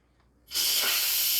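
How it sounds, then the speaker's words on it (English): A Cosori pressure cooker's manual steam release bursts into a loud, sustained hiss after a brief quiet moment, a steady close jet of venting steam with no talk over it. "So I'm just going to manual release this one."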